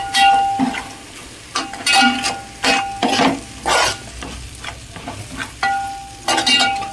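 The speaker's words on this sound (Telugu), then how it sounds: "ఒక్క నిమిషం ఇలా వేయించుకోవాలి." Ridge gourd (dondakaya) pieces frying with chili powder in a pan, with steady sizzling broken by repeated bursts of a spatula scraping and stirring against the metal, close and clear.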